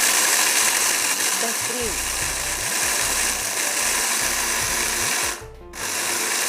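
A Philips electric grinder grinds roasted spices with a loud, continuous whirring drone that stutters briefly near the end, while a voice speaks a word over it.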